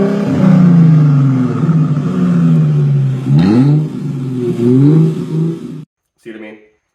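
A Chrysler Crossfire engine with straight-piped exhaust revs up and down several times with a loud, throaty roar, then cuts off before a short final burst.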